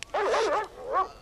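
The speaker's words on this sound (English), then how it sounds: "Turn those dogs loose, Orville!" Tracking dogs in the 1982 film First Blood bark and bay loudly up close, two wavering, drawn-out calls in quick succession.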